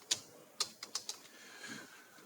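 A handful of light, crisp keystrokes on a computer keyboard while a file name is typed, spaced irregularly and fairly close, in a quiet room with no talking.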